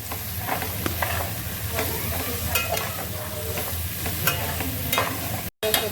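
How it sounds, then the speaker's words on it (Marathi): Onion and mixed vegetables sauté over a high flame for Hakka noodles, a steady loud sizzle with stirring scrapes and clinks throughout, briefly cutting out just before the end. "आता हे आपण व्यवस्थित परतून घेऊया मोठ्या गॅसवरती"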